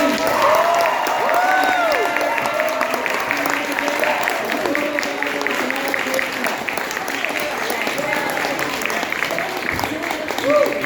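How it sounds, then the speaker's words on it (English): Applause from a comic convention panel crowd, steady and fairly loud, with cheering and voices mixed in throughout. "Ladies and gentlemen, a round of applause for the cast of Bleach."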